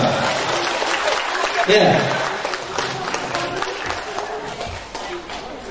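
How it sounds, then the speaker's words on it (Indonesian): Applause from a seminar audience keeps up as a steady, dense patter for several seconds, with a presenter's voice briefly cutting in. "tepuk tangan dulu dong"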